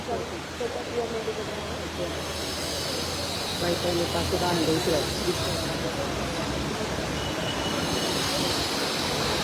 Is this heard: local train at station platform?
yes